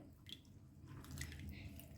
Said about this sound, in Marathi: चला आता आपण ही भेंडी छान 2 पाण्याने धुवून घेऊया.